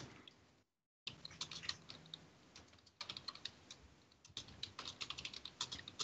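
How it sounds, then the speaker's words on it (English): Rapid, loud keystrokes clatter on a computer keyboard heard over a live online call, with a brief drop to silence near the start before the typing resumes in uneven bursts. "Who's typing dead loud?"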